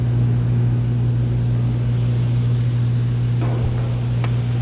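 A replaced heat pump fan motor runs with a constant steady hum and broad whooshing airflow, loud and close, with a faint brief clatter near the end.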